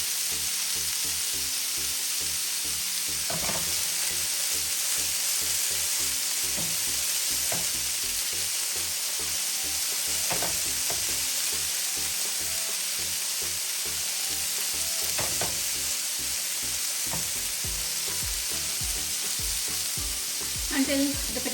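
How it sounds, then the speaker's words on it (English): Okra and potatoes fry in two separate pans, a steady loud sizzle with crackling pops and occasional stirring clatter, with no talk throughout. "Potatoes in one pan, another pan I'm frying okra over here."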